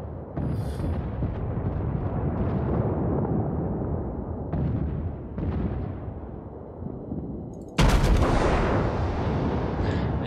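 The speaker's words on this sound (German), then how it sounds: "Der erste Schuss. Erste. Voll drauf. Erster Schuss." Heavy warship guns fire in the World of Warships naval battle game, a dense booming roar of cannon blasts and explosions rolling on for several seconds, closing with a sharp, louder burst near the end; no talk heard.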